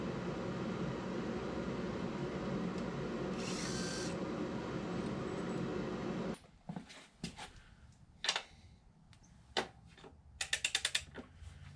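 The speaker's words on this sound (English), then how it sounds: "Spinning it with the impact driver makes it easier to pull out." An impact driver buzzes steadily as it spins out a 10mm bracket bolt on a motorcycle, then stops, followed by scattered metallic clicks, clanks and a short rattling burst of ratcheting.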